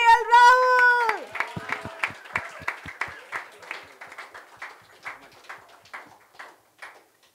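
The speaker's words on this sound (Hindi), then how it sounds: "आप लोगों से गुजारिश है कि जोरदार तालियों से उनका स्वागत करिएगा सभी को।" An audience claps to welcome cricketer KL Rahul at a Kings XI Punjab sponsor event, a sustained round that thins into a few scattered claps and fades, following a voice over a loudspeaker.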